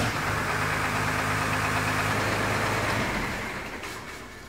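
A first-generation Cummins diesel engine idles at a raised speed after a fuel adjustment, a steady close rumble with a low hum that fades slightly toward the end.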